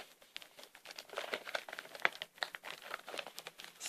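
A new alarm clock being unpacked, with dense crinkling and rustling of packaging and plastic throughout, close and moderately loud with small crunchy peaks.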